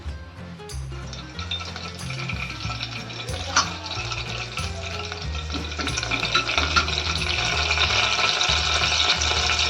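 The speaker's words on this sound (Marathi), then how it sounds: "आणि 3-4 चमचे तेल टाकते. आता कढीपत्ता टाकते त्याच्यामध्ये." Curry leaves sizzle in three to four spoons of hot oil on low heat while toor dal tempering is started, a steady crackling fry that grows slightly louder, with a few light clinks of a utensil.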